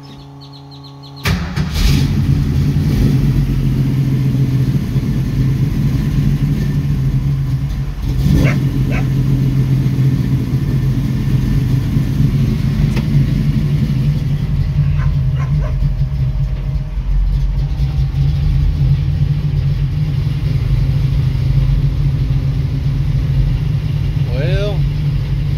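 A car engine fitted with a Holley carburetor catches after a blip of throttle and settles into a loud, steady, slightly rough idle that holds for a long stretch, close up, with faint sounds of a dog barking.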